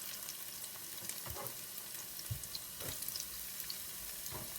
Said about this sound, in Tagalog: Para sabay na silang maprito ng ating onion